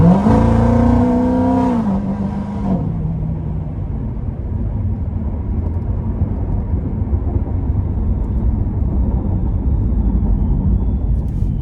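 A 2016 Procharged Corvette Z51 3LT, supercharged to about 850 hp, roars loudly as it revs up and pulls away, the engine pitch rising sharply before settling into a steady, heavy rumble that carries on alone.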